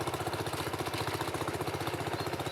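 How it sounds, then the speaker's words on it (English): A British-made wartime tractor engine chugs in a steady rapid pulsing rhythm while pulling a plough across a farm field, close and continuous with no voices. "you can let the engine do all of the work"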